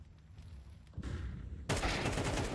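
Rifle and sniper gunfire in a Counter-Strike competitive match, a few sharp cracks followed by a sudden dense burst of loud shots near the end, with no voices.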